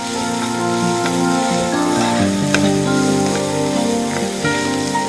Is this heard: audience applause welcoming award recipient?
no